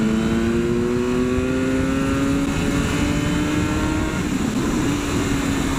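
A BMW S1000R motorcycle accelerates hard, its engine note climbing in a smooth rising whine under steady wind roar, close and loud for several seconds without a break.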